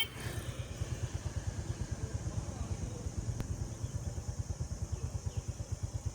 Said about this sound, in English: I strap the packages to the back of the bike, kick-start the engine, and pull out into the afternoon traffic